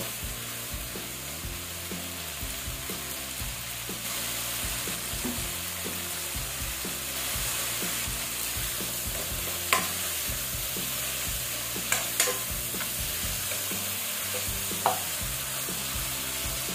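Chopped tomatoes sauté in a pan for tuna head soup, a steady close sizzle with a scraping stir now and then and a few sharp clinks of the utensil against the pan.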